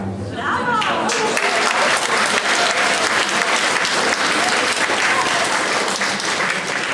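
A concert audience at a Christmas carol concert claps loudly and continuously, a dense close applause with a voice calling out near the start.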